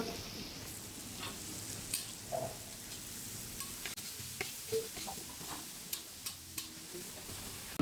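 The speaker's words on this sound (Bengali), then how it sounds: "পেঁয়াজটা লাল লাল করে ভাজা হয়ে গেছে" Chopped onions fry in a kadai with bay leaf, dried chilli and salt, a faint, soft sizzle broken by light clicks and taps of stirring.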